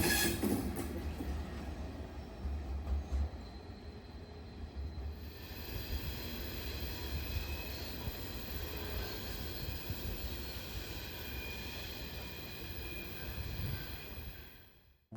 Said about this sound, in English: the sand train has arrived in Boston.